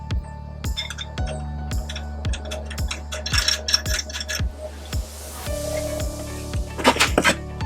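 Bolt and washer being tightened onto a metal plant stand, a steady series of regular ratcheting clicks and metallic clinks up close, with a few brighter clanks near the end and no talking.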